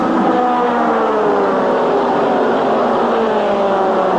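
NASCAR Winston Cup stock cars at the 1983 Gabriel 400 charge to the finish, a loud, continuous pack engine roar with overlapping whining tones that rise and fall together.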